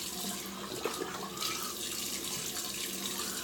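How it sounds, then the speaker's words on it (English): Ice cold New York City tap water runs steadily from a faucet into a sink, a continuous close splashing rush used for a face splash after a shave, with a couple of brief louder splashes. "we will shock the face with that ice cold New York City tap water"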